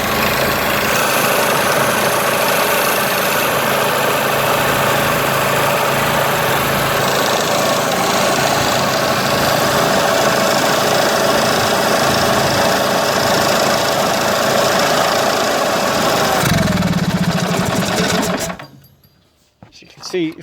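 An Onan 4kV generator engine runs steadily with an uneven, vibrating hum, loud and continuous before cutting out abruptly near the end.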